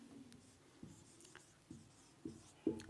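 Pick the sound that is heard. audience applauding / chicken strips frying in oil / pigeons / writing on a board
writing on a board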